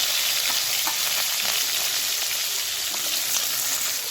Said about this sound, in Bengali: এই তেলের মধ্যে দেব কেটে রাখা পেঁয়াজ